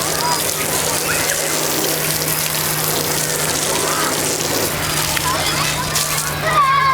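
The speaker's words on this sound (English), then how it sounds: "let's get some water on it again" Water splashes and sloshes over a car panel freshly coated in Turtle Wax Ice spray wax, a steady wet rush with a faint constant hum underneath.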